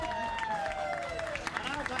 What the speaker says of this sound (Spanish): ¡Un aplauso que sea, por favor!